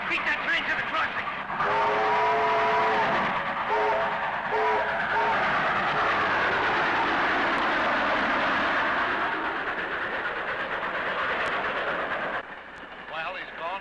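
A train rumbles steadily past a crossing, loud and close for most of the stretch, with a car's engine in the mix and brief voices speaking early and again near the end.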